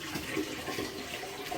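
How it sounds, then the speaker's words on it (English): A bucket of water pours steadily into a bioactive glass enclosure for a White's tree frog, giving a continuous splashing, gurgling flow at moderate loudness with no talking. "Here comes the last bucket of water, we reckon."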